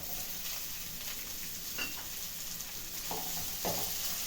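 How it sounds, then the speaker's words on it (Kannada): Onions frying in a pan for a moong dal khichdi, a soft steady sizzle with a few light stirring scrapes partway through and no talking. "ಇದೊಂದು ಐದು ನಿಮಿಷ ಫ್ರೈ ಮಾಡಬೇಕು ಈರುಳ್ಳಿ ಫ್ರೈ ಆಗಿದೆ"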